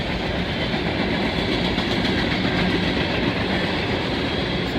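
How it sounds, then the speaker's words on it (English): A long coal freight train rumbles steadily past close by, heading east near Oak Harbor, Ohio: a loud continuous roar of rolling cars with faint rhythmic clatter and no voices. "The coal train heads east."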